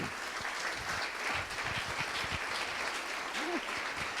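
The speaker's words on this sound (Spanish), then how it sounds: "yo quiero darle un fuerte aplauso a Dios" Applause for God fills a church congregation: a steady, dense clapping crowd sustained throughout at even loudness, with a faint voice briefly rising near the end.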